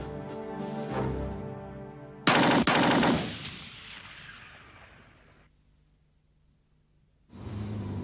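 Gunfire of an execution before the town hall of Dongo, heard as a loud sharp volley of shots in a burst, then a long fading echo and rumble, followed by renewed noise.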